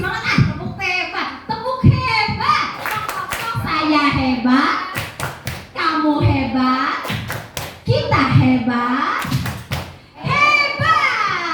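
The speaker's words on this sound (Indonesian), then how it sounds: "Biar lebih semangat, tepuk hebat." A classroom of children performs the rhythmic "tepuk hebat" clap, sharp hand claps in quick patterned bursts mixed with chanting kids and a teacher's voice throughout.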